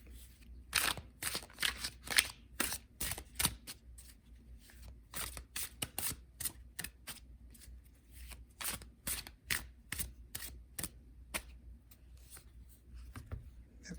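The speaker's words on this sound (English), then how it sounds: "When I'm shuffling, I do what feels right at the time." A deck of cards is shuffled repeatedly, crisp riffling bursts in quick irregular succession, close and fairly quiet with no talking.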